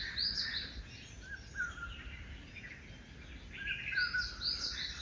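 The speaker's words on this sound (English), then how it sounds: "It's a beautiful bird, and there's so many of them around." Birds chirp and call in repeated bursts, clearest near the start and again toward the end, over a steady outdoor background hum, in Islamabad.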